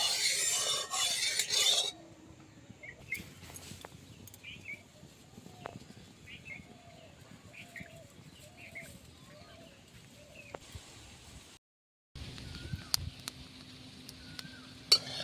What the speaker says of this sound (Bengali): এবার আমি খুন্তি দিয়ে তেলটা ভালো করে নাড়াচাড়া করে নেব